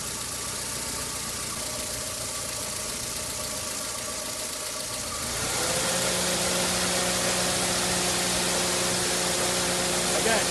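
A Holden SB Corsa (Barina) engine idles steadily with its cooling system under pressure, then about halfway through the radiator fans kick in, adding a louder, constant whooshing hum over the engine drone.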